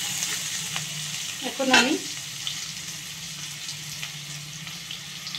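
Spices sizzle in a pan while being stirred for South Indian sambar, with a steady frying hiss throughout. A brief burst of louder spluttering or a splash stands out near the middle, and a voice speaks a few words over it.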